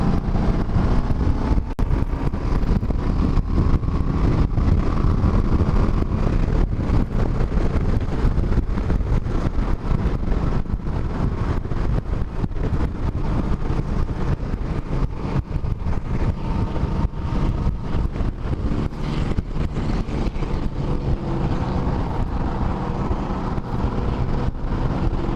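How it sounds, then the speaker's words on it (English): Loud, steady wind buffets the microphone while riding a Yamaha V-Star 1300 Deluxe cruiser motorcycle with a fairing, a constant broadband roar with engine and road rumble underneath, continuous for the whole stretch with no talk. "Man, it's windy today."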